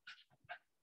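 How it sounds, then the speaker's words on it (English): A dog pants close by in a few quick, breathy bursts, short and moderately loud, with no other sounds around them. "Sorry for my panting dog,"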